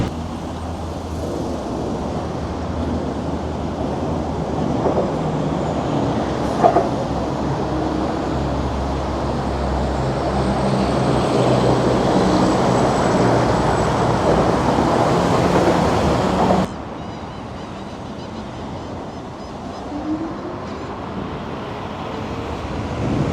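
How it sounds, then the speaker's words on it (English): A Maxfun 10 Max electric scooter rides along a wet road in rain, giving a continuous broadband rush of tire and wind noise that drops suddenly and then stays quieter, with no talking. "Probably just let it be in silence so you can listen to the sounds of the road and the scooter."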